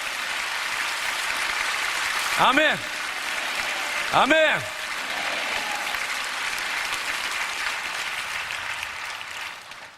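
A church congregation at a prayer meeting breaks into steady, continuous applause, sustained throughout, while a voice twice calls out a short response over the clapping.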